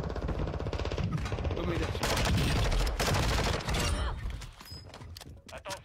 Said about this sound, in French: Par contre, ça tire, là.